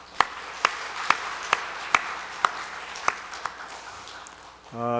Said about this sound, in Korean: 우리 격려의 박수 한번 부탁하겠습니다